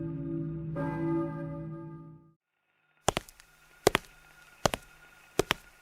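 A single bell in the Silent Hill video game rings and hums as it fades, followed after a pause by a series of sharp, sparse knocks or clicks.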